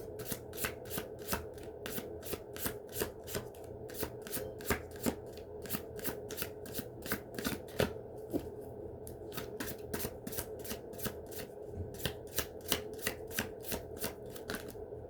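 Tarot cards are shuffled close up in a tabletop reading, a rapid, even run of crisp riffling snaps that pauses briefly and resumes, with no voices.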